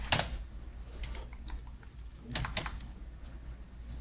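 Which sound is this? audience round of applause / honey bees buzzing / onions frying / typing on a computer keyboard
typing on a computer keyboard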